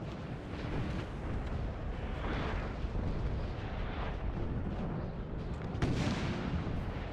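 Artillery fire in Napoleon Total War 3, a dense, continuous rumble of overlapping cannon booms and battle roar with a sharper burst near the end.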